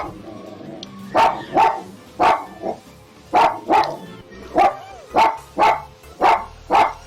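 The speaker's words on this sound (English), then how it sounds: "we unfortunately don't get to see the dog's deviances, but we can definitely hear them" A dog barks repeatedly in short, loud bursts, about a dozen barks in steady pairs and runs, close by with no talking.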